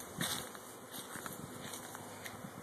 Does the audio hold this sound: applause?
no